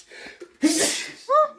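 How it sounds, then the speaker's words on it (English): A single loud, close sneeze bursts out after a sharp inhale, triggered by cayenne pepper in a kitchen, followed by a short voiced exhale or gasp. "Why she's contributing to sneezing, I don't know."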